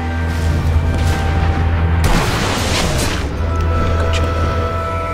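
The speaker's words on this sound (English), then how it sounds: "Explosion went up behind us." A booming explosion goes off behind the players in the Sniper Elite V2 video game, a sudden loud burst that cuts through the steady game soundscape and then fades.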